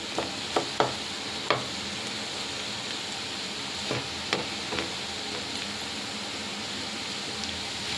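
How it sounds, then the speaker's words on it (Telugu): Boiled potatoes fry in a pan with a constant sizzling hiss, punctuated by several sharp clinks and scrapes of a utensil against the pan. "కొంచెం ఫ్రై అయ్యేంత వరకు వేపుకుందాం"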